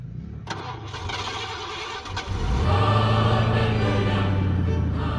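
A diesel-fouled engine cranks with a rough, greasy chug, then catches and settles into a loud, steady, throaty idle close by.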